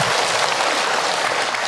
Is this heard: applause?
yes